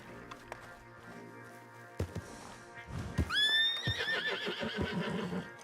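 A horse in Red Dead Redemption 2 lets out a loud, shrill whinny that falls away into snorts, after a few soft hoof thuds and a sharp thump.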